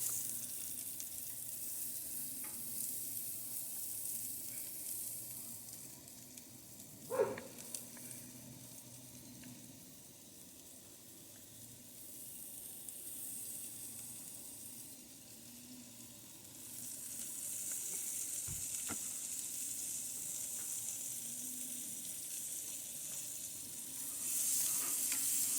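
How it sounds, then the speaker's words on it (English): Jalapeno with seeds and diced onions frying in a pan with bacon and sausage, a quiet, steady sizzle with occasional stirring scrapes and one sharp knock, swelling louder toward the end, no talking. "We're going to put in the jalapeno with seeds, like our heat, and the diced onions right into the bacon and sausage."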